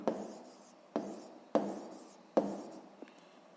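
A pen or pencil scratches on paper during sixth-grade math work, making four quiet strokes that each start with a sharp onset and then fade.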